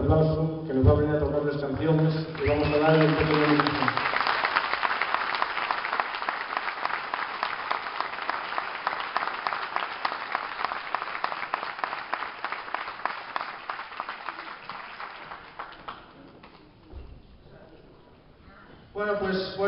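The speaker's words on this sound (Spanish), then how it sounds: "vamos a dar un fuerte aplauso, que nos va a venir a tocar las canciones y vamos a dar el fuerte aplauso" Concert audience at an end-of-year school show applauding steadily for well over ten seconds, dense and sustained, tapering off near the end, with a few spoken words at the start and a voice returning at the close.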